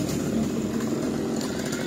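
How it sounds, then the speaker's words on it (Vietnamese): A G375 chainsaw cutting coconut palm fronds from a tall coconut tree in a home yard, its engine droning steadily and loudly without a break, with no talk over it. "Giờ tao động máy cưa cắt mấy tàu dừa cản trở trước"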